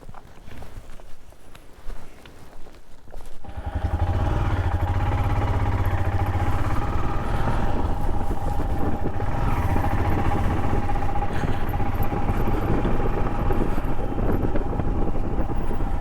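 A loaded touring motorcycle on a long solo ride from Wayanad to Hubli starts up and pulls away, settling into a steady, loud engine drone with rushing wind noise after a few seconds of quieter handling sounds.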